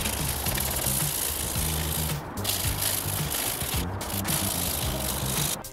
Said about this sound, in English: where the supports were, there's actually little bumps. I'm just going to sand those away.